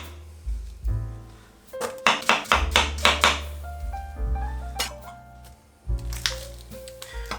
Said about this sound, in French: L'oignon, je le coupe en 2.